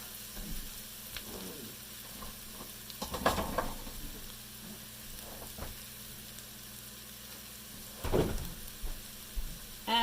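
Rice noodles dropped into a pan of sizzling stir-fried vegetables, giving a steady fry hiss with two louder bursts of crackle and stirring, no voices.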